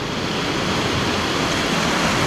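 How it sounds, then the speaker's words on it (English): A small upland stream in the Cheviot hills, swollen into flood and breaking its banks, rushes with a loud, steady broadband roar close by and without pause. "The river is starting to break its banks."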